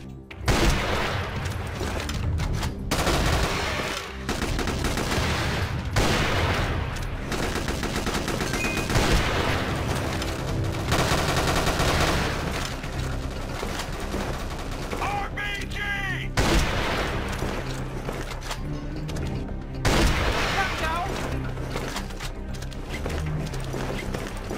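Sniper and automatic gunfire with grenade blasts in the shooter game Chiến Dịch Huyền Thoại, featuring the F2X sniper rifle; dense, loud bursts of shots and booms over a continuous battle soundscape with game music.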